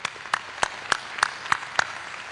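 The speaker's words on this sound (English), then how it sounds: "give him a great big round of applause for the work that he does" Slow, evenly spaced handclaps, about seven sharp claps at a steady rhythm, fairly close and moderately loud, during a fall university convocation ceremony.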